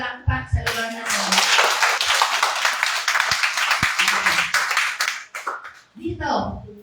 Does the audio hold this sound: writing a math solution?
no